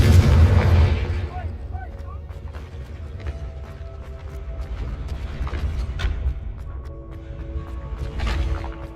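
A Confringo spell explosion in Hogwarts Legacy, one loud deep boom at the start that fades into a rumbling tail, followed by lighter game effects and scattered pops.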